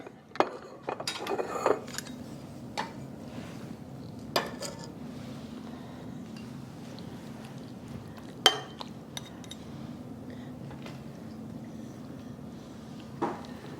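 Dishes and cutlery clink while a one-pot spaghetti dinner is dished up, with scattered sharp clinks and scrapes spread over a quiet kitchen hum, a few louder knocks standing out.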